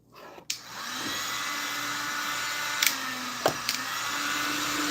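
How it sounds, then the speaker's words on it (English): A heat gun blows a steady, loud broadband whoosh after switching on about half a second in, with a low hum underneath and a few brief clicks or knocks during warming work. "And then, I'm going to turn on my heat gun."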